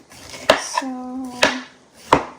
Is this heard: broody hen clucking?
no